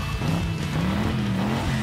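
A Boom City Racers toy car hits the ground and speeds off with a continuous high motor whine that rises slightly in pitch over a steady wash of noise.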